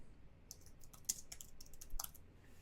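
Keystrokes on a computer keyboard, quiet and sparse: a handful of light clicks scattered across a couple of seconds, with no voice present.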